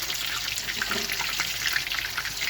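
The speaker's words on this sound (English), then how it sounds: "that's the sound of the dishwasher" Steady rushing water with splashing and faint clinks, a continuous broadband wash close by from a running dishwasher spraying inside.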